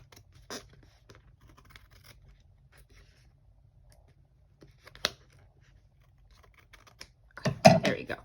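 Scissors trimming paper for a December Daily scrapbook title page: a few faint, isolated snips early on, then a louder, rougher burst of cutting near the end, all quiet and without speech.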